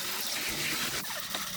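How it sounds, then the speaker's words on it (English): Two jets of water spraying from a hose onto a camper van being washed, a close, steady hissing spray with a brief shift near the end. "There's a jet of water coming out of there, 2 jets in fact"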